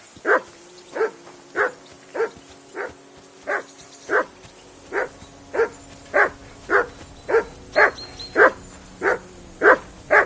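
A dog in a video game barks over and over in a steady, evenly spaced rhythm, about a dozen and a half sharp barks, fairly close and clear.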